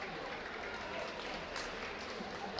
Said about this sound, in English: A few OBB fans clapping.